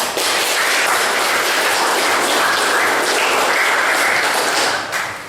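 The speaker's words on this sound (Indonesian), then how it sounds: "Kalian tepuk tangan untuk kita semua." Classroom students burst into sustained, dense applause, loud and close, holding steady for several seconds before tapering off near the end, with no talk over it.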